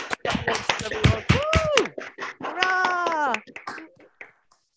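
Scattered clapping from participants at an online graduation ceremony, sharp individual claps mixed with overlapping voices calling out, ending abruptly.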